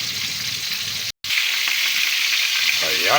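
Tuna frying in a pan gives a loud, steady sizzle that is cut off by a brief silence and then resumes. A voice speaks briefly over it.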